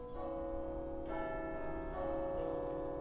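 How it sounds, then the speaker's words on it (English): The heaviest bells of a carillon, played during a masterclass, ring out in three deep strikes, each leaving a long humming resonance that overlaps the next, heard alone without talking. "And I will do the heaviest bells, and then what we will do is push them down."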